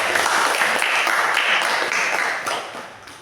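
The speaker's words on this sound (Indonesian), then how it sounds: "Oke, tepuk tangan dulu dari kelompok 1." Dense clapping from a classroom group after a student group presentation fills the whole stretch, steady and loud before gradually thinning and fading toward the end.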